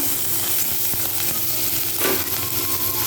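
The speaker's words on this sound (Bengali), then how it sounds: "এটাকে হালকা করে একটু নেড়ে নেব" Whole garam masala, crushed ginger and two chillies frying in oil are stirred with a utensil. A loud, continuous close-up sizzle runs throughout, with occasional scraping strokes and a brief stronger stir near the middle.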